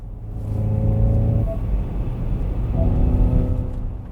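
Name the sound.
electric car propulsion sound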